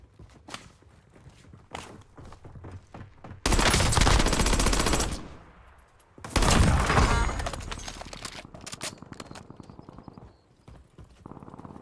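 Automatic gunfire from a rifle in a first-person shooter game with heavy recoil: two long, loud sustained bursts, separated by a short gap and surrounded by sharp clicks and taps.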